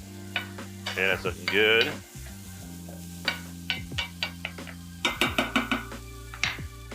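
Onions sizzle in a pan for a shrimp stir fry, with a utensil scraping and clacking in repeated stirring strokes; a person speaks briefly near the start.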